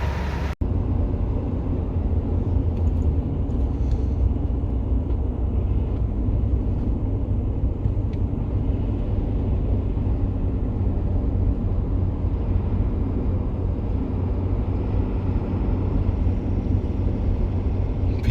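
A hotshot truck cruises down the road, its cab filled with a steady low engine drone and road rumble that holds constant from start to finish with no voices.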